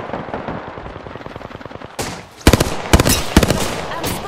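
Automatic weapon fire in the video game Apex Legends, first a fast rattling burst and then several loud, sharp separate shots in quick succession, close and punchy over a busy game background.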